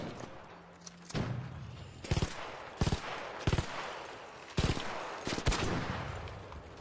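Gunfire in the video game ARC Raiders rings out in several sharp bursts of quick shots at irregular intervals over a constant background hum.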